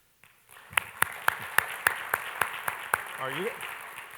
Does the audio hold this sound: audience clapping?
yes